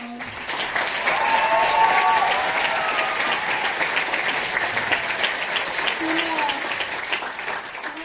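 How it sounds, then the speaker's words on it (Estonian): An audience applauds after a folk dance performance in a school hall, giving a sustained wave of clapping that swells early and slowly fades, with a voice speaking over it. "väga suur aplaus teile"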